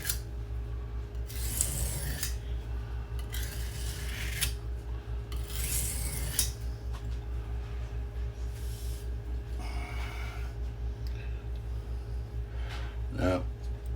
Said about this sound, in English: Just making strokes that like I was just taking a small, or rather a very thin slice off the top of this stone